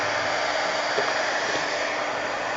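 A heat tool blowing on paint to dry it in a mixed media craft session, a steady close whooshing hiss held unbroken for a few seconds, with no talk.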